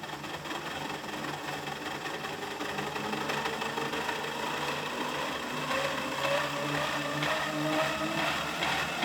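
A small 3D-printed three-phase generator spins steadily to power a light, giving a continuous mechanical whir with a faint rising whine, fairly close and alone without talk.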